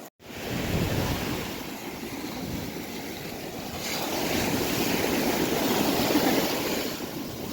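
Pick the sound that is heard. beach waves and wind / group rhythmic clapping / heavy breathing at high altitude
beach waves and wind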